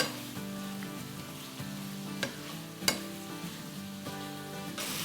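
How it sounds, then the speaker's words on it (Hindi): Masala fries in oil in a pan for chicken boti, giving a continuous close sizzle with a couple of sharp spoon knocks and a steady underlying hum, without talk. "अभी देखें अच्छी तरह फ्राई हो रहा है।"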